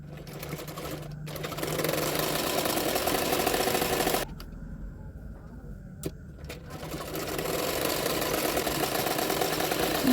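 A sewing machine runs steadily, stitching a belt onto a double katori blouse. The motor whirs continuously, pauses briefly midway, then resumes with a few close clicks and a faint voice underneath.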